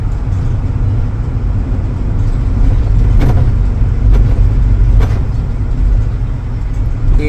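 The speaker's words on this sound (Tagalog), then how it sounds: "Dito expressway na puro traffic na" Heavy, congested Saturday traffic crawls along the NLEX expressway, giving a loud, continuous roar of engines and tyres with a few brief rattles and thumps, and no voices.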